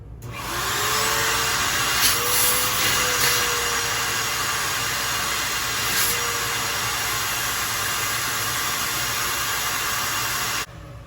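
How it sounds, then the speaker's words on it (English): A vacuum cleaner sucks debris and water out of the end of a toilet water supply hose, a steady loud broadband roar that starts after a second and runs close up and continuous for about ten seconds before cutting off. "so I'm going to vacuum it out as well"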